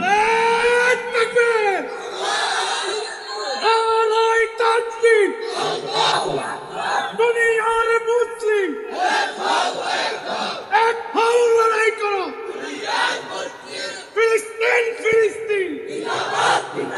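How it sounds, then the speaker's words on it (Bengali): A large gathering at an Islamic religious sermon shouts takbir in loud, repeated unison chants, swelling and falling in waves of bellowed voices for the whole stretch. "এই মাহফিলে মাঝখান থেকে একজন দাঁড়াও তো, জোরে তাকবীর দাও।"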